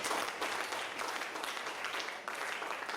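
Church congregation clapping and cheering in praise during a worship seminar, a dense, steady wash of applause and acclamation throughout, close and loud.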